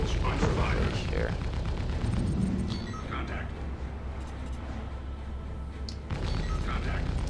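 Gunfire striking spaceship shields in Star Citizen around a Cutlass Black, loud bursts of impacts and booms early and late with a quieter stretch between, someone talking over the combat.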